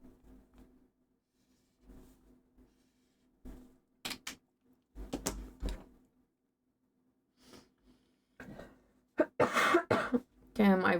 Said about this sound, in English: I wish I could be rid of this cough